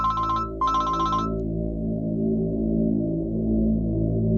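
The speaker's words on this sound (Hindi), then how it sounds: "ये कौन है जो आपको बार बार फोन किए जा रहा है?" An incoming-call ringtone plays as two short bright bursts of melody and then stops, leaving a low steady hum underneath for the rest of the clip.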